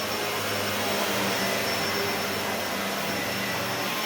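A Shark Lift-Away ZU560 upright vacuum cleaner with a self-cleaning brushroll runs steadily and loudly with a broad, even whooshing roar, with no talking over it.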